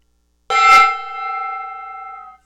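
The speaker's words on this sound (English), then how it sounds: "I bang the gong." A gong left behind by a friend is struck once, giving a sharp metallic clang that blooms into a sustained shimmering ring and slowly fades over about two seconds, heard alone.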